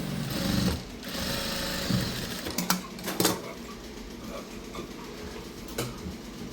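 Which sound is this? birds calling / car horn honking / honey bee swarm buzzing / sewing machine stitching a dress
sewing machine stitching a dress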